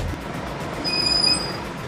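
A New York L train rumbles past close by, its wheels letting out a brief high squeal over a steady low roar.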